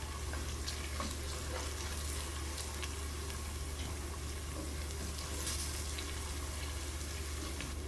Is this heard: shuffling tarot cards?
no